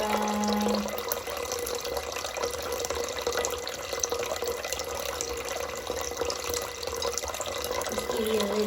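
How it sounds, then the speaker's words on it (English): A tap runs steadily into a garden sink or basin, giving a continuous, fairly loud rushing and splashing of water that lasts throughout with little change. "If I put the tap on, you'll come out, huh?"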